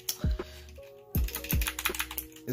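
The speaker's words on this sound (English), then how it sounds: "Well, this is my keyboard." Punkston TH61 computer keyboard being typed on: a handful of crisp, close keystroke clicks in an irregular rhythm, with faint steady tones in the background.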